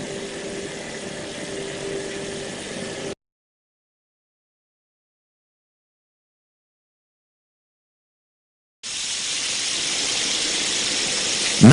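Abrasive blasting equipment cleans a metal surface with a steady loud hiss, broken by a gap of silence of several seconds before the rushing blast resumes.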